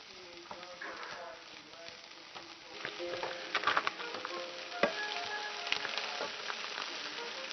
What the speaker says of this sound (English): Starting to sizzle here.